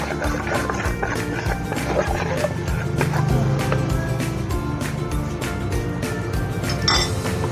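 Spice marinade being stirred in a bowl, with continuous clinking and scraping of a utensil against the dish, steady and close, over a constant background hum.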